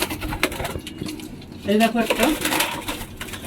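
A held pigeon coos and flutters close up while a person talks over it, with rustling movement and a short burst of cooing midway.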